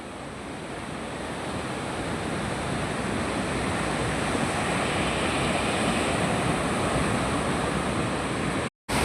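Sea surf washes steadily beside moored fishing boats, a continuous dense roar mixed with wind noise that holds level throughout and cuts out briefly near the end.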